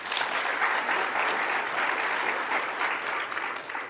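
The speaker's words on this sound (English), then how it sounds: "So give yourselves a round of applause." Conference audience applauding at a Time to Thrive event, a loud, sustained wash of clapping from a large crowd lasting throughout before tapering slightly at the end.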